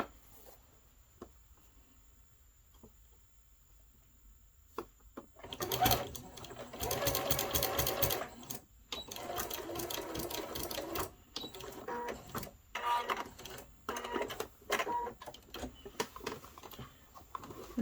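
A sewing machine stitching a fat quarter quilt, starting with quiet handling, then loud rapid mechanical whirring runs in several long bursts separated by short pauses, close up.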